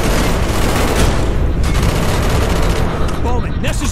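Dense gunfire from the Call of Duty: Black Ops campaign, rapid overlapping shots and booms forming a loud continuous barrage with faint voices underneath.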